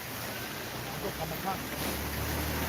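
A waterfall at a temple site gives a steady, broadband rushing roar, continuous and fairly loud throughout, with faint voices and wind buffeting mixed in.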